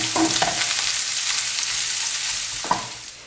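Bruschetta bread fries in oil in a pan with a steady, close sizzle, broken by a few scraping stirs near the start and end.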